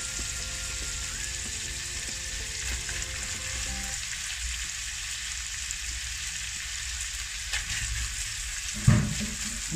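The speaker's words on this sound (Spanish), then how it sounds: "Lo vamos a saltear hasta que esté un poquito dorado." Bacon and onion sautéing in a frying pan give a steady, close sizzle throughout, with a soft clatter of stirring near the end.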